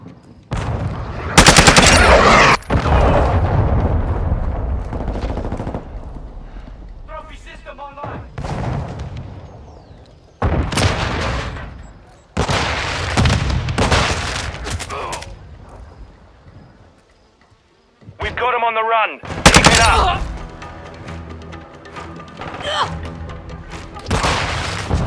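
Heavy gunfire and explosive booms from a cruise missile strike in Call of Duty: Modern Warfare II, loud bursts broken by short gaps, with voices and game announcer calls between the blasts.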